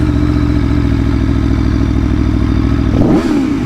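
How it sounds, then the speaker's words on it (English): A 2020 Aprilia Tuono V4 RR's exhaust roars loud and close, holding a steady throbbing drone before a brief rev swell near the end. "that exhaust sounds absolutely godly, man"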